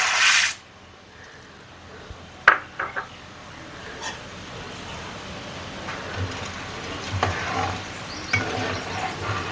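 Chana dal drops into hot oil for a tomato pickle, giving a faint, steady sizzling hiss with a few small clicks and pops scattered through it.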